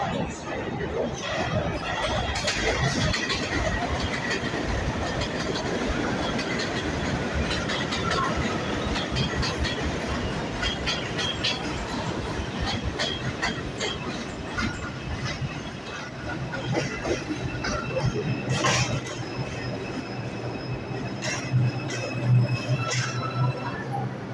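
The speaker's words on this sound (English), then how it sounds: "There is a 2 train to Redfield 241st Street, approaching the station." A 2 subway train rumbles into a station, a steady loud roll of wheels and clattering cars with rhythmic clicks, brief squeals and distant chatter, building slightly toward the end.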